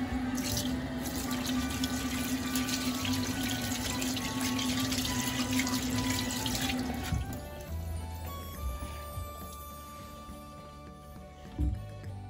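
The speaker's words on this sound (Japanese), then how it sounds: "石鹸で洗い終わったら十分に水で流し" Tap water runs steadily into a sink as soapy hands are rinsed, a continuous close splashing stream for several seconds that stops, leaving faint drips and a small knock.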